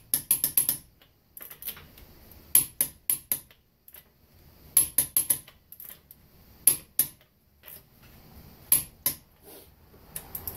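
A torque wrench tightens wheel lug nuts in short bursts of ratcheting clicks, each burst ending sharply, separated by pauses, close and crisp, with no speech.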